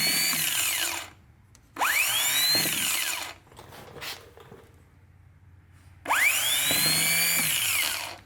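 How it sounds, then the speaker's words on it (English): Compact high-torque mini starter motor for a Chevy 350 being bench-tested, whirring up in two loud bursts of about a second and a half each, separated by a quieter pause with faint clicks, with a rising whine as it spins up. "now we can move this right here, and it should spin it"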